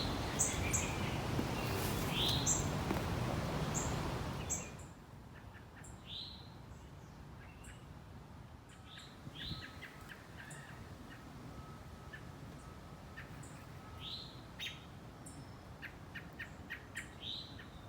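Birds chirping and calling in a garden, with scattered short tweets and a few louder calls, after a stretch of steady noise at the start.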